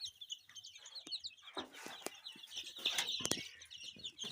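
A flock of about 120 young golden chickens kept in a boarding room clucks and chirps steadily, with bursts of wing flapping and scuffling close by.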